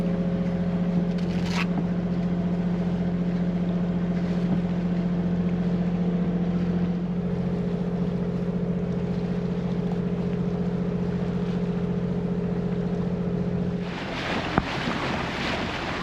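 Sailboat motoring under engine at sea off Bangor heading toward Donegal Sound, a steady low engine drone with wind buffeting the microphone and a wash of water throughout, no talk.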